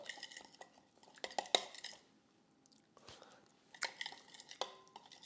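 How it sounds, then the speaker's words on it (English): Caesar-style topping mixture stirred in a bowl: a close, quiet series of spoon clinks and scrapes in two short bursts separated by a near-silent pause, no talking. "And we'll give this a stir"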